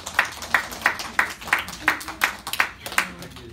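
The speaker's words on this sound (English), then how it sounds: "let's give Danny a round of applause" A handful of people clap for a student at a family martial arts studio, a short series of separate claps in a loose rhythm, close and moderately loud, with no other sound over them.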